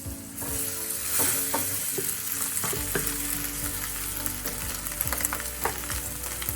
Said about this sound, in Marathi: हे चांगलं आपल्याला परतून घ्यायचं